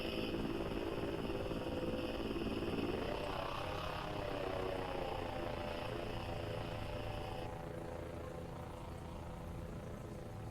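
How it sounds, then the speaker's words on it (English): A drone in the Voices of the Void video game hums steadily with a droning, rotor-like whir whose pitch sweeps and shifts midway, loud and continuous throughout with no talking. "Oh, it was the drone? Yeah, yeah, the drone."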